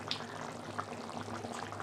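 Vegetarian curry of chhana bora and potatoes simmering in a pot, a faint steady bubbling with small scattered pops and no voices.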